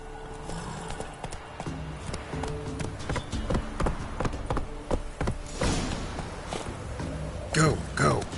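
Roach the horse trots in The Witcher 3, hooves clip-clopping in a steady rhythm under a rider's talk, with a snort or whinny near the end.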